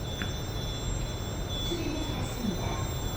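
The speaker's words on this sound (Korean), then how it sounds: "지하철 4호선 성신여대 입구역에서 인사드립니다." Subway train at Seoul Line 4 Sungshin Women's University station, a steady low rumble with faint wheel squeal and a brief high tone, continuous throughout with no talk.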